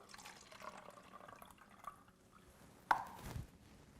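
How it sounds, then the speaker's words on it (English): Water is poured out of a container of soaking tomatoes, a faint trickle and splash with one sharper drip-like splash partway through, quiet and close. "and when we pour out the water"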